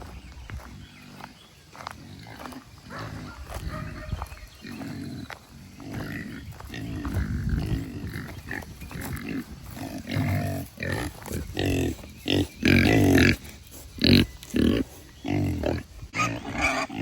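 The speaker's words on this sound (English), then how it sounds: "Here come the pigs." Pigs approaching on a farm, grunting and snorting in bursts that grow louder and closer, mixed with trampling footsteps and rustling, with a person talking in places.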